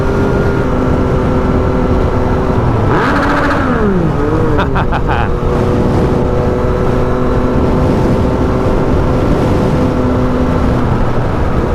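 A Yamaha FZ-09 motorcycle pulls hard toward 100 mph, its engine a loud, sustained drone that climbs through quick gear changes with brief pitch dips around the middle, all under steady wind rush.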